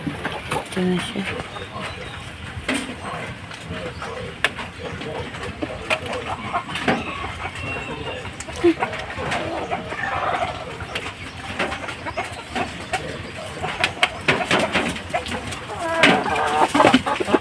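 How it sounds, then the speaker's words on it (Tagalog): A recovering sick mother hen clucks among other chickens outdoors on an overcast, rainy day, soft intermittent clucks and coos scattered throughout while a person talks nearby. "Ito yung manok ng nanay."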